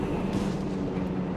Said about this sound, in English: Machine gun there, Basie, and strafing run inbound here from Ausar.